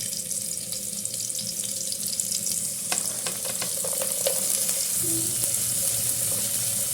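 Chopped onion and carrot sizzling in hot oil in a pan for a vegetable Maggi dish, a steady close crackle with occasional stirring scrapes and clinks.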